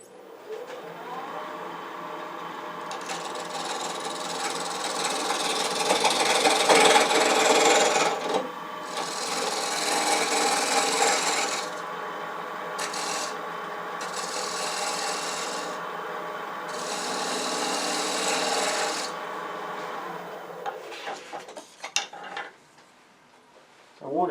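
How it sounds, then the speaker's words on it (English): A wood lathe turns a parallel tenon with a detail tool, giving a steady, loud scraping and rasping of the tool against spinning wood for about twenty seconds with brief pauses, then quieting near the end. "now I'm going to turn this as a parallel tenon for my standard record power jaws"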